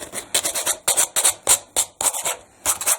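A cut piece of belt sander belt rubs back and forth in quick bursts of coarse, raspy scraping, loud and close, with brief pauses between strokes.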